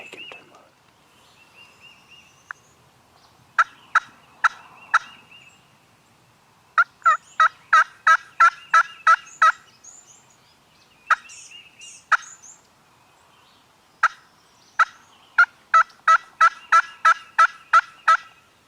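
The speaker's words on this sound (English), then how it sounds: "Oh, lots of gobbling." Wild turkeys gobble in the morning woods during a hunt, with repeated rattling gobbles in bursts, some loud and close, others fainter, overlapping through the stretch with quiet pauses between.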